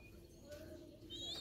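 Lotan pigeons give soft, low coos in a short, quiet moment, with a few faint higher chirps over light background noise.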